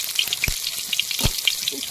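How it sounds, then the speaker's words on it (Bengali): Snakehead fish frying in hot oil in a kadai, a close, steady sizzle with small crackling pops and a couple of sharper splatters as the pieces are turned. "মাছগুলো একটু উল্টে পাল্টে ভেজে নেব।"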